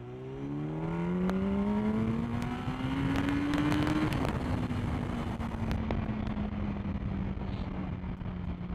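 A 2007 Yamaha YZF1000 R1 motorcycle riding downhill, its engine droning steadily with a rising then gently falling pitch, heard close and continuous with wind rush and occasional clicks.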